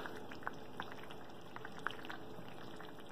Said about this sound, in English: it's bubbling away, which means the yeast lived